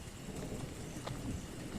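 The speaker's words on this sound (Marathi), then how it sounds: "धो धो पाऊस पडत होता" Heavy rain pours steadily at night over muddy farm fields, a dense continuous hiss with a faint low rumble of thunder underneath and no voices.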